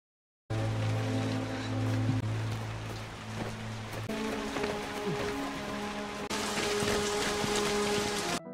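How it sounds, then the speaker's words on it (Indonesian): Steady rain patters down continuously, loud and close, with a low droning hum underneath that shifts partway through. "Lalu hujan pun turun."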